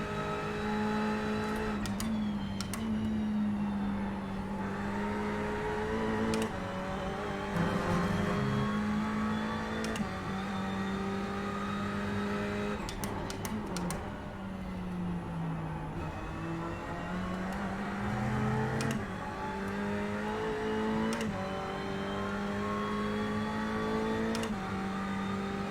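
A Ferrari GT3 race car engine in a racing video game drones steadily and loudly, its pitch rising and falling as the throttle is pumped and released through shifts, with no voices over it.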